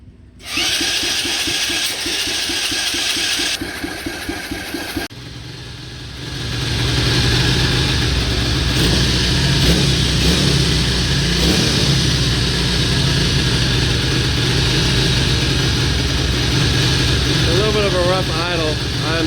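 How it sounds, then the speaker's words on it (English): A Coolster 125cc ATV engine idles roughly and unevenly after a carburetor adjustment, chugging steadily up close while a person talks over it. "It does have a little bit of a rough idle"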